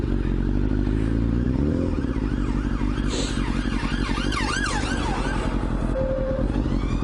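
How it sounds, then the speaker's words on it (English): Police sirens wail steadily over loud, rumbling traffic noise, heard from a motorcycle, their rising and falling tones carrying clearly from fairly close by. "Police sirens."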